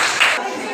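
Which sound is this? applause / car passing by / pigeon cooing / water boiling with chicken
applause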